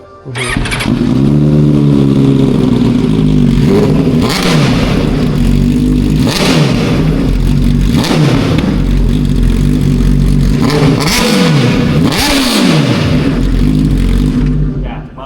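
A Ducati Superveloce 1000 engine idles loudly close by and is revved several times, each rev rising sharply then falling back, with voices talking over it.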